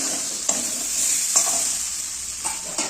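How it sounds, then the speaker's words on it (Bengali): Potatoes for Bengali-style kasha aloo dum sizzle steadily in a pan, with a few scraping stirs of a spatula breaking through the frying hiss. No one speaks. "আমার কষা কষা প্রায় হয়ে গেছে।"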